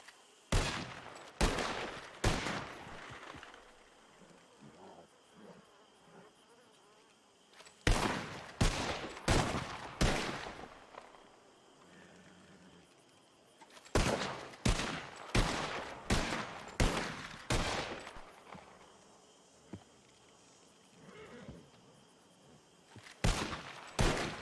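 Gunshots fired at a scarecrow target during a Wild West roleplay video game rattle out in quick, loud clusters of several rounds each, with short quieter reload gaps between the bursts.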